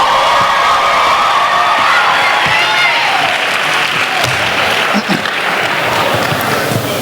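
Clapping and cheering from a conference audience fill the room at a steady, loud level for the whole stretch, with scattered whoops and a few voices rising over the crowd.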